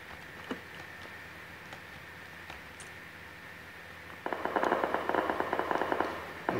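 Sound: gunshots in a video game

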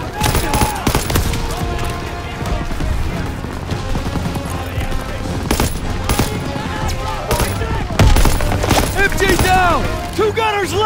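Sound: machine gun fire in video game Call of Duty WW2

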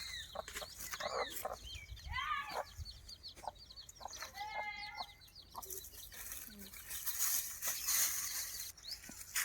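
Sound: chickens clucking

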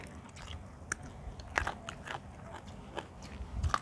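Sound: crunchy bite of rice mixed with boiled egg

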